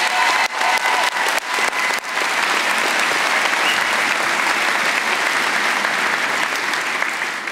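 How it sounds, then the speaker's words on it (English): Applause fills a college of agriculture commencement ceremony: dense, sustained clapping from a large audience, loud and even throughout, with a few sharper claps standing out near the start. "Should we give him another round of applause?"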